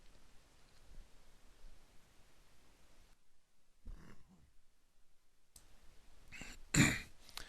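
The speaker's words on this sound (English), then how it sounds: "I didn't want to cough into the mic" After a quiet stretch, a single muffled cough comes close up, followed by a sharper burst of coughing and throat noise near the end.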